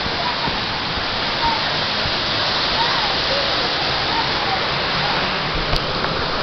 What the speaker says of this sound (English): Let's go back up here to the second waterfall.